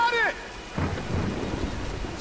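A thunderstorm with rain in the video game Tomb Raider: a low rumbling roll of thunder over a steady wash of rain, following a brief tonal sound at the start.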